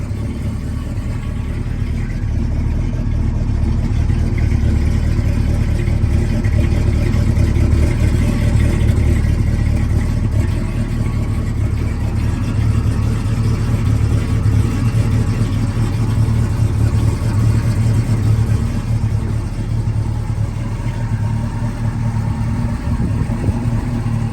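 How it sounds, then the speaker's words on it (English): A 1970 Ford Mustang Mach 1 with a 428 Cobra Jet V8 and rebuilt drivetrain idles close by with no exhaust leaks, a steady deep rumbling burble sustained throughout, loud and even, with no voices. "Super smooth engine."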